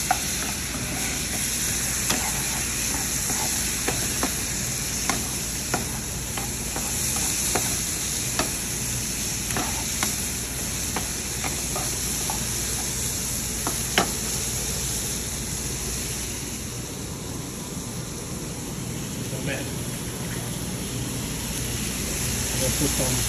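Spicy fried rice with crispy pork belly stirred in a hot pan, a steady broadband sizzle with repeated scraping clicks of the utensil, close and continuous, with occasional speech faintly underneath.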